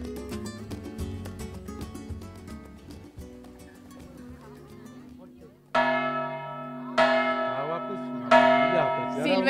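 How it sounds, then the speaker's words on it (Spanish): Church bells ring out a festive peal at the Torre de la Vela in Granada on 2 January. Loud, bright clangs start with layered ringing and swell into strong repeated strikes that are close and resonant, with no voices over them. "por fin hemos podido dar ese repique en la Torre de la Vela"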